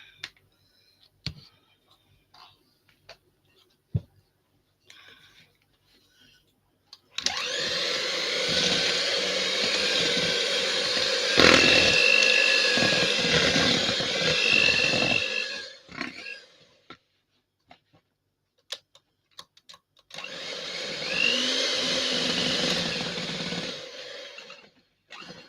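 A whisk beats blackberry cobbler batter in a bowl in two sustained bouts of brisk, scraping rhythmic strokes, separated by scattered light clicks and taps.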